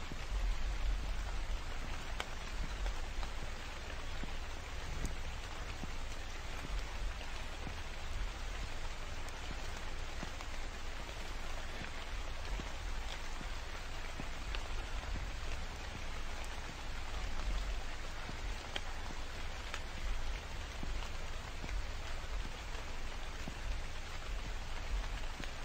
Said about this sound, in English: but it is also raining now.